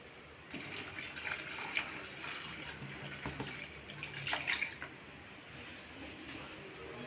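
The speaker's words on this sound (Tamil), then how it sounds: "குழம்புக்கு தேவையான நம்ம தண்ணி ஊற்றிக்கலாம்." Water poured into a simmering raw mango curry (mangai kulambu) made with coconut, a steady splashing trickle running for several seconds with a few brighter splashes, fairly quiet and with no talking.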